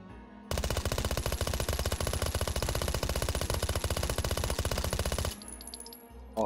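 Suppressed automatic gunfire from the VR shooter Hot Dogs, Horseshoes & Hand Grenades on HTC Vive. A single loud, rapid, evenly spaced burst lasts about five seconds, then stops abruptly, with no talk.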